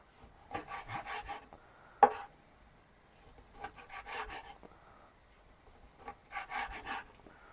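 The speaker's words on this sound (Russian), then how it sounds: "Потому что чесночок вот так вот разрезаю." A kitchen knife chops garlic and sausage pieces for a meat solyanka, two bursts of quick, close board taps at the start and middle and another near the end, with one sharp knock between.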